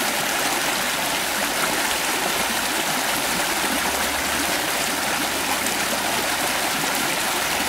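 A low, drought-shrunken creek spills over a series of small waterfalls, giving a steady, close, full rushing and splashing that never lets up and carries no voices.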